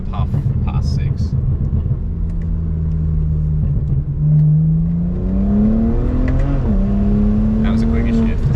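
Street car with a drag-tuned transmission pulls hard under load, its engine note climbing in pitch, then dipping sharply at a quick gear shift before rising again. The car sounds close and rumbling throughout.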